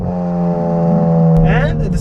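Hyundai i30N hatchback engine in N mode holding a steady, loud drone with strong low harmonics, then rising in a rev as pitch climbs near the end, continuous and close.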